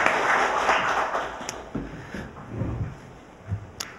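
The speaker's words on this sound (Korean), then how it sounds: "큰 박수 부탁드리겠습니다" Audience applause at a Korean public forum on settling past injustices: a burst of clapping from a gathered crowd that is denser at first, then thins into scattered, softer claps toward the end.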